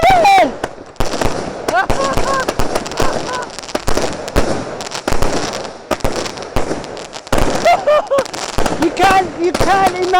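Fireworks bursting in rapid, irregular succession, sharp crackling pops and bangs loud and close, with excited voices talking and shouting between the blasts.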